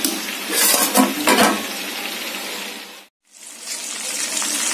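Chicken leg pieces deep frying in hot oil, a steady bright sizzle with bursts of stirring and utensil clatter, a brief cut to silence, then the frying hiss resumes.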